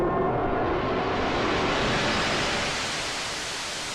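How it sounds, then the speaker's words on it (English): Steady broadband noise from the noise oscillator of a Noise Engineering synthesizer plugin, a dense hiss that holds evenly and slowly dims toward the end, with no voices. "you have more classic kind of noise on the end, but then you have like more darker and weird noise"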